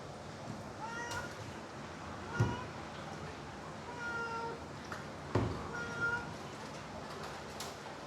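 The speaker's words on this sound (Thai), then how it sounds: "เจ้าขุนเป็นแมวไง" A cat meows several times, fairly faint and spaced out, with quiet voices at times in the background.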